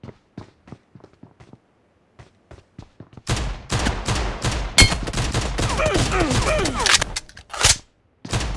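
Rapid bursts of gunfire in the mobile shooter PUBG Mobile, a few isolated shots early, then a loud, dense stretch of continuous automatic fire with overlapping reports, briefly pausing near the end.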